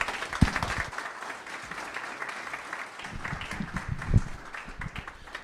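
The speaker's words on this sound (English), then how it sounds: "Please give them a warm round of applause." Audience applause at an evening history talk with local authors: sustained, dense clapping from a room full of people lasting several seconds, with a few sharper claps standing out near the start and toward the end.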